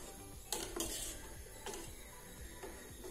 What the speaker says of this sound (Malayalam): ഇത് തിളക്കണ വരെ ഒന്ന് ഇളക്കി കൊടുക്കാം